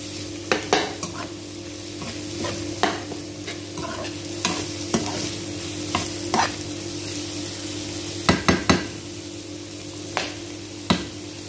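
Chicken and onions brown in vegetable oil in a pan for masboos, a continuous even sizzle broken by irregular sharp spoon scrapes and clanks against the pan as the food is stirred.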